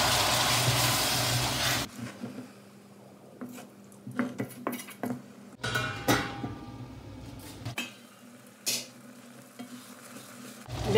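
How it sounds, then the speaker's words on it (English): Finely chopped tomatoes with spices hit a hot pan with a loud hiss, then cook with a softer sizzle under repeated clinks and scrapes of a utensil stirring against the pan. "add our finely chopped tomatoes and cook them until they are tender"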